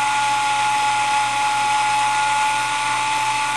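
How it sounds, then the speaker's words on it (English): Flap control prototype with a screw jack rotating as its arm drives the flaps up, giving a steady, loud high-pitched motor whine with a constant tone and no break for the whole stretch. "you can see this arm moving down, screw jack rotating here"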